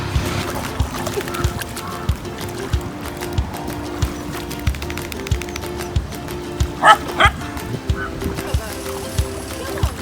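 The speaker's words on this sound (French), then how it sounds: "ils venaient d'arriver à la plage avec 5-6 chiens pour essayer de les faire sortir un peu puis jouer dans l'eau" Several dogs at a beach in Sri Lanka bark and yip repeatedly in short, sharp bursts, with occasional whimpers, close by over a wash of water and a low background murmur of voices.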